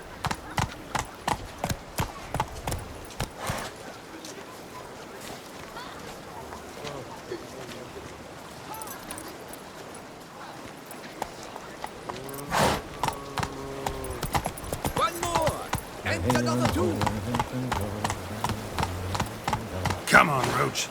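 Roach, Geralt's horse in The Witcher 3: Wild Hunt, trots with steady rhythmic hoof clip-clops, quieter midway, then louder and quicker near the end, with brief game sounds between.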